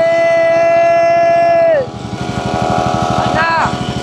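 A 50cc petrol mini dirt bike engine runs loud and close, holding a steady buzzing drone, then dropping in pitch into a rougher, pulsing idle with a short rev near the end.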